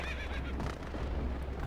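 A horse whinnies in the video game Zelda: Twilight Princess, a short, loud neigh mixed into dense game noise and rumble, lasting under two seconds with no speech.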